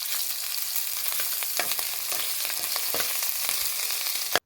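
Whole spices, bay leaf, ginger, garlic and chili crackling in oil for a fish curry with potato and tomato, a loud steady sizzle punctuated by sharp stirring taps, cutting off abruptly at the end.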